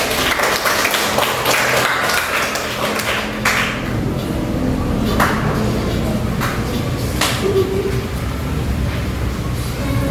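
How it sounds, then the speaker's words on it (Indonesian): A crowd claps together in a steady patter of many hands, filling the room with a few sharper claps standing out. "tepuk tangan buat kelompoknya tadi"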